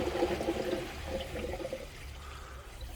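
Water escapes from leaking pump plumbing in a steady, rushing trickle. It is close and fairly quiet, fading a little toward the end.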